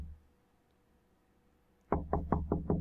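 Five sharp knocks in quick succession inside a creepy mental-asylum walkthrough in the game White Enamel, loud and close after a stretch of quiet ambience.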